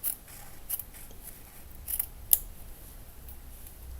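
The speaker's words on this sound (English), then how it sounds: "And then I'm just gonna cut straight up from there." Sharp scissors snip through paper for a papercraft build, a few quiet, crisp cuts spaced irregularly against a near-silent room.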